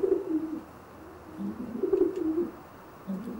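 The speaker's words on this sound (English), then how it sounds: "Beautiful pigeons." Show pigeons from an old bird cock racing team cooing in a loft, low rolling coos repeating in several soft bursts, close and clear with no talk.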